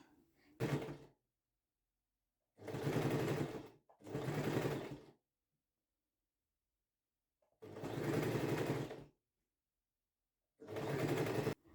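Sewing machine stitching a dress hem in short separate bursts of fast rattling whir, each lasting about one to one and a half seconds, with near-silent pauses between runs.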